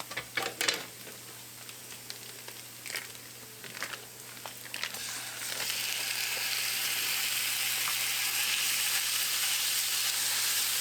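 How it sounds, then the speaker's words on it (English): One pound of grain-fed ground beef browns in a pan with caramelizing onions, a steady close sizzle that swells into a loud, continuous fry, with a few scraping stirs and clicks early on. "So I'm going to put my beef in and get it browned."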